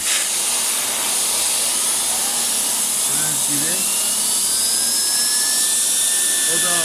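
A small electric mini vacuum cleaner motor blows air with a steady high-pitched turbo whine, loud and close, holding constant throughout.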